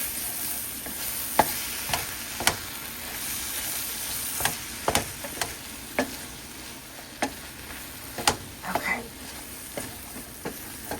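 Veggie cauliflower fried rice with eggs being stirred in a hot pan, a steady sizzle broken by repeated sharp scrapes and clacks of the utensil against the pan at an uneven rhythm, close and fairly loud, with no talking.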